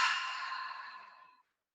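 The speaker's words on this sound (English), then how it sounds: "Exhale, let's fog the mirror with our breath" A single slow, breathy exhale through an open mouth, as if fogging a mirror, close and soft, fading out after about a second and a half into silence.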